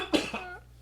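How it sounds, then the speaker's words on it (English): A single short cough, close and fairly quiet, with a small second burst trailing right after it in an otherwise still room. "As he coughs"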